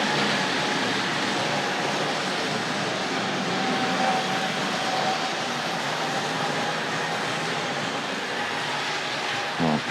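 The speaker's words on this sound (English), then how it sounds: "So I'll bring the Davy Crockett to a stop just after the diamond crossing." A vintage Tri-ang Davy Crockett model train runs steadily along the track with a continuous rumble, then comes to a stop after a diamond crossing, a brief clatter at the very end.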